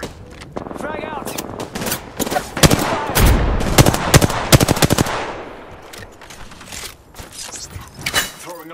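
Apex Legends gunfire crackles in loud rapid automatic bursts mixed with single sharp shots and explosions, dense and close, while in-game character voice lines speak over the action.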